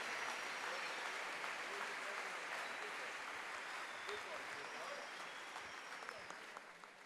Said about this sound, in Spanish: Le puede dar hoy sí un aplauso al Rey bendito.